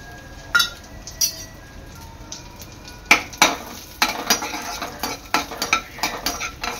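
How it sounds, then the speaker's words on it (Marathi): Dry fruits stirred in a little ghee in a kadhai, with soft sizzling under repeated sharp clinks and scrapes of a spoon against the pan, close and irregular. "कढईमध्ये आपण थोडंसं तूप टाकणार आहोत। आणि ह्याच्यामध्ये आपले सर्व ड्रायफ्रुट्स आहेत ना, ते परतून घ्यायचे आहेत।"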